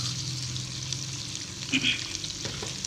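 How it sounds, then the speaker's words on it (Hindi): Okra frying on a low flame for a spicy Punjabi-style bhindi masala gives a steady, close sizzle throughout, with a few brief stirring scrapes partway through and no speech. "इसको हम हल्की आंच पे फ्राई करेंगे।"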